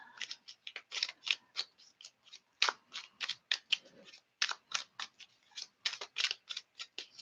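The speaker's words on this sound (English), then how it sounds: "I have this new tarot deck and it's just almost a little bit too slick to shuffle" A new, slick tarot card deck being shuffled by hand, giving quiet, crisp, rapid riffling flicks and snaps in uneven bursts, close and otherwise silent.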